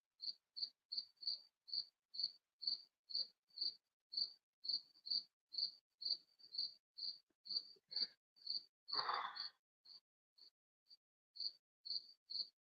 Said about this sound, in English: I swear to God, them crickets sound just like crickets